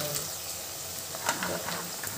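Dried red chillies sizzling in hot oil for tempering a capsicum rice bath, a continuous fizzing crackle with a few sharper pops over a brief moment.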